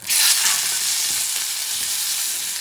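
Just after it is flipped, a piece of fresh tuna sears loudly in a hot pan for tuna ramen, giving off a dense, steady hiss that stays close and even throughout with no voices.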